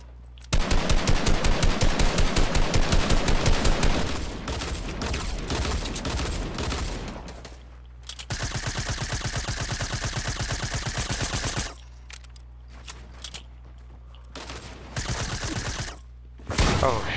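Dense automatic gunfire from a battle royale video game in duos play, rapid loud bursts clattering for several seconds, pausing, then resuming in shorter volleys and a final brief burst.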